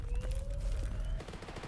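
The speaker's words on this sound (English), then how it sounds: "Yeah, gunfire right here." Rapid gunfire in a survival shooter video game, a fast irregular rattle of distant shots with low thumps, fairly quiet beneath game ambience.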